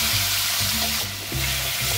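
Cumin powder, cashews and raisins frying in hot oil in a wok give a steady, close crackling sizzle, briefly dipping and swelling as the spices hit the oil, with a low rhythmic hum beneath.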